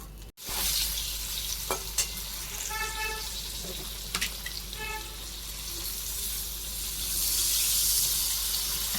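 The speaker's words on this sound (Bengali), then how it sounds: "এখন ডালটা ফোড়ন দেবো, সর্ষে ফোড়ন দেবো" Mustard seeds sizzling in hot oil for tempering dal, with scattered pops, a few utensil clinks and a brief beeping tone.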